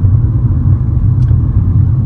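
Inside a moving car, a steady low road and engine rumble fills the cabin with no talking.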